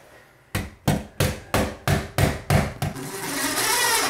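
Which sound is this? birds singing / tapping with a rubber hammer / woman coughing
tapping with a rubber hammer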